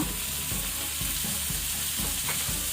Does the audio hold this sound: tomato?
yes